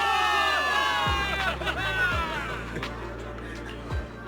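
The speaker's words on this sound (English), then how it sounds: "Give it up for yourselves, soldiers! Cheer for victory!" Soldiers cheering for victory in the game Zenless Zone Zero, a crowd of voices shouting and whooping together under swelling music with low drum hits, fairly loud and sustained throughout.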